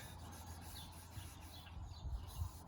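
A rag rubbing finish off a wooden mid-century modern nightstand, a faint soft continuous scrubbing with a few slightly stronger strokes near the end.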